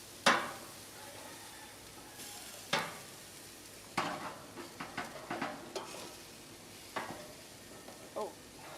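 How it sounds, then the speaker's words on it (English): Sliced onion hitting a hot frying pan while cooking a catch-and-cook meal, giving a quiet, soft sizzle with scattered stirring scrapes and light utensil clicks, with no talking. "Onion down."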